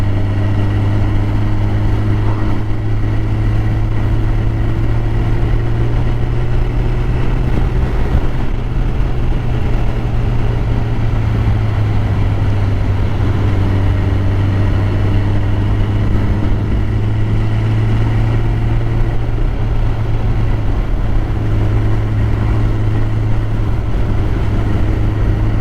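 Middleweight motorcycle riding along a country road in Wasdale, a steady engine drone with a low humming tone that rises and falls slightly over wind and road rumble, close and continuous.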